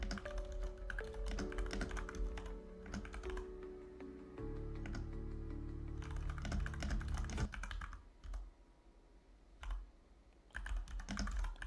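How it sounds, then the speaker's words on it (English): Rapid typing clatters on a close computer keyboard under a sustained musical tone. The keystrokes come in irregular bursts and keep going after the music stops, with short pauses between runs. "Sorry for typing in your ear."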